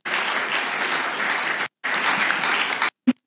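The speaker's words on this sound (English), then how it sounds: "I don't know if you could hear the applause" An audience at an information day on ERC grants applauds after a presentation, a steady wash of clapping that breaks off briefly, resumes, then stops with a single late clap.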